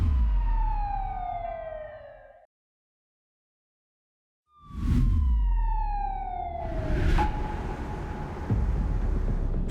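An emergency siren wailing in descending sweeps, loud and close, cutting off into a silent gap, then returning with rumbling traffic and rising sweeps again.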